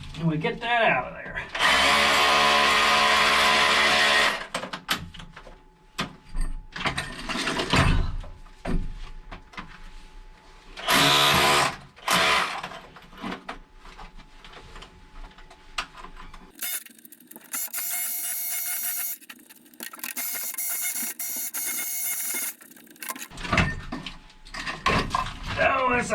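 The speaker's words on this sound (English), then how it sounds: "Now we take our hammer drill with a flat bit in it," A hammer drill fitted with a flat bit bores out a hole in a tight spot, producing several loud, sustained grinding bursts of varying length separated by quieter pauses with talking.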